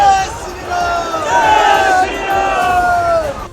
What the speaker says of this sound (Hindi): भगवा झंडों के साथ पहुंचे लोगों ने वहां हनुमान चालीसा का पाठ किया और इसके बाद नारेबाजी शुरू कर दी।